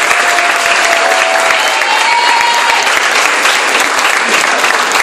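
A hall audience at the Miss Prestige Réunion 2018 beauty pageant applauds in a dense, steady, continuous wash of clapping, with a faint voice briefly audible underneath.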